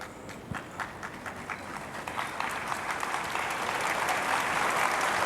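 An audience at a Delhi political event breaks into applause that begins with scattered claps and swells into a dense, steady clapping by the end.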